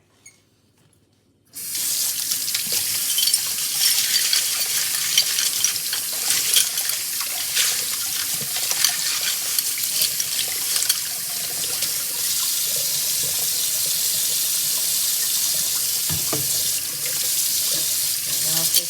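Tap water runs into a sink as sewing machine parts from a Wheeler & Wilson machine are washed with soap, a loud continuous splashing rush starting after a brief silence and continuing steadily, with light clinks of parts.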